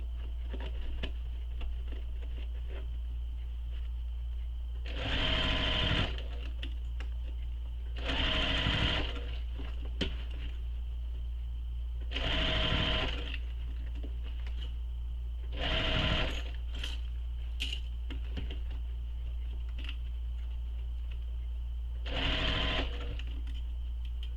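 A sewing machine stitches the seam around a shoulder bag in five short bursts, with pauses between runs while the presser foot is lifted and the bag pivoted. A steady low hum runs underneath the whole time.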